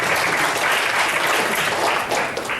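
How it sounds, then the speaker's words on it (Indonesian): A crowd claps steadily and loudly throughout, a dense wash of applause with no pauses. "Tepuk tangan buat perusahaan yang ada di sini."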